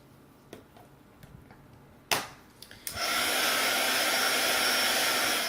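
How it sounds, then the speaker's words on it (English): Heat gun switched on after a few light clicks and taps, then a steady close whooshing roar of hot air that holds to the end. "I'm going to bring in my heat gun"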